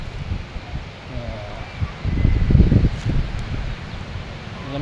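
Strong wind blowing outdoors near a mountain, rustling leaves in rising and falling gusts with a rumbling buffet on the microphone, loudest midway through.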